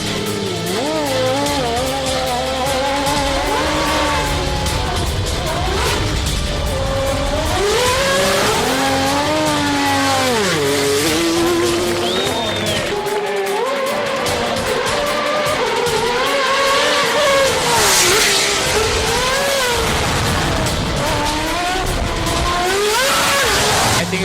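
Superleague Formula race car at Jerez spinning for the crowd, its engine revving hard and wavering in pitch with tire squeal, loud and continuous throughout, with a faint voice underneath.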